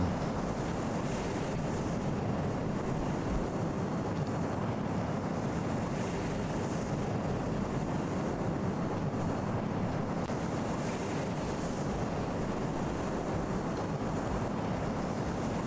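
A Boeing 747 in a video game, flying at high speed and coming apart, produces a steady, loud, broadband roar of engine and wind noise that holds constant with no talking.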